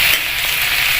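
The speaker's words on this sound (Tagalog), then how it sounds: "Ginigisa ko muna bago lagyan ng gata." Loud, continuous sizzling and crackling of bamboo shoots sautéing in a hot pan, with no pauses.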